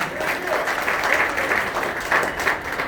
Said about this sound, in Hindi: जोरदार ताली बजा जी।